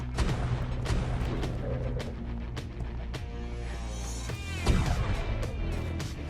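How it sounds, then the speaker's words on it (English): Broadside cannons booming from a man-of-war in the game Ark Survival Ascended, a rapid series of loud, sharp blasts with rumbling tails, repeating through the stretch. "the man of war was hitting them with broadside cannons"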